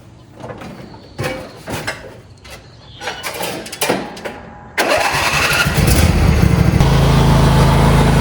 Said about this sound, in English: We'll try it out. Start her up. Give her a try.